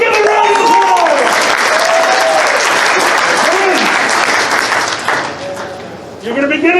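An audience at a furry convention comedy improv show breaks into a loud, sustained round of dense applause that thins toward the end, with voices talking over the clapping.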